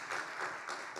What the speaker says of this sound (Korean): 박수로 뜨겁게 한번 환영해 드리도록 하겠습니다